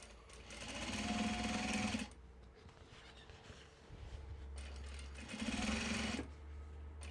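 Sewing machine stitching Japanese fabric bags, two loud bursts of fast whirring at the start and again near the end, with a quieter gap of low hum between them.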